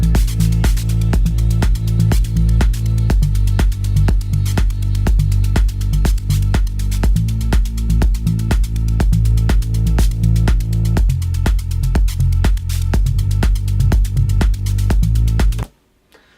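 A busy electronic loop with a rapid, slightly uneven ticking hi-hat-like noise pattern over steady bass notes, playing loudly before stopping abruptly.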